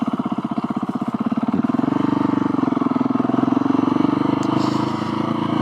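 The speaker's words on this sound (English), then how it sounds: "the exhaust, it goes brap, brap, brap" A Husqvarna 701SM motorcycle fitted with a Leo Vince Nero exhaust idles with a loud, close, pulsing single-cylinder thump that smooths into a steady, deep drone as the revs rise slightly, with no voices.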